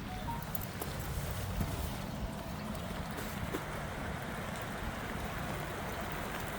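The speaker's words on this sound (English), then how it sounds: "It's pouring with rain." Heavy rain pouring down outdoors by a house roof with an aerial, a steady dense hiss with low rumbling patter that stays constant and fairly loud throughout.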